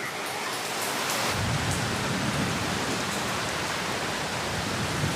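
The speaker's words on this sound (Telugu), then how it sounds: "చూస్తుండగానే వర్షం పెరిగిపోయింది పెద్ద వర్షం వచ్చేస్తుంది" Heavy rain pouring down on a garden, a dense, continuous hiss that swells after the first second and holds steady and loud throughout, with no voices.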